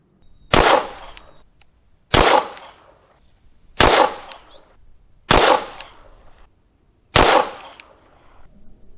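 Ruger Alaskan 454 Casull revolver firing Black Hills 45 Schofield rounds: five loud, sharp gunshots spaced about one and a half seconds apart, each with a short echoing tail, outdoors.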